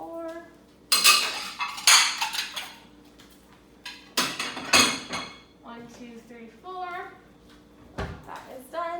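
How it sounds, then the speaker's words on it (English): Plates, bowls and silverware clatter and clink in sharp bursts while a table is set in a kitchen studio, with a voice and other talk in between. "That is done. So now silverware."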